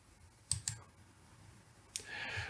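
Mouse clicks in Excel 2019 while adding a calendar add-in: a quick double click near the start and a single sharper click later, close and quiet with no talking.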